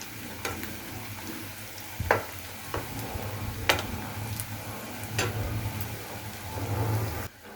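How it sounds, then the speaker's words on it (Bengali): Chicken puli pitha frying in oil in a pan, a low steady sizzle with a hum underneath and a few scattered clicks and taps from turning the pieces. "এই পিঠ ওই পিঠ করে আমি এরকম লাল লাল করে কিন্তু ভেজে নিয়েছি"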